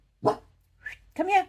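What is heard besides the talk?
dog barking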